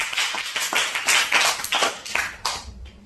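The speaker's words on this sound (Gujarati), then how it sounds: "મજીઠિયા ધ્રુવિકાબેન કાંતિભાઈ જોરદાર તાળીઓથી વધાવી છે" An audience claps together to welcome a Class 6 student guest at a school Bagless Day event; scattered, fairly close handclaps in uneven bursts that thin out and fade toward the end.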